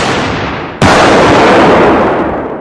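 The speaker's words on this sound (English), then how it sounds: "Go ahead, try and follow the explosion from one end to the other." A 200-meter line of detonating cord fires in one loud, sustained roaring blast that starts abruptly and rumbles on for about two seconds before slowly fading outdoors.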